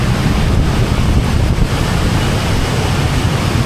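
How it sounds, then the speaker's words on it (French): A sudden rain shower pours onto a Bangkok street in traffic, a dense, loud, steady wash of hiss and rumble close to the microphone, with some wind buffeting and no voices. "la pluie qu'on ne s'attendait pas, qui vient d'arriver instantanément sur 10 mètres"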